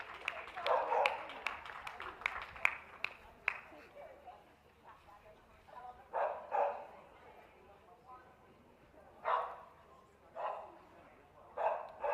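Dogs barking at a championship dog show for working and pastoral groups, a burst of rapid barks followed by scattered single barks in a reverberant hall, with an announcer talking over them.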